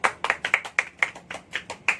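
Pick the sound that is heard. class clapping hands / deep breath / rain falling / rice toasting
class clapping hands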